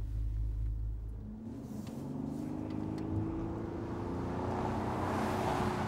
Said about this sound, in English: Hear that familiar burble? I just love that sound.